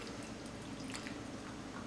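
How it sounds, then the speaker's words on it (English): Distilled water pours from a cup into a PC water-cooling loop, a faint, soft trickle with light drips under a steady hiss. "just kind of pour in the water"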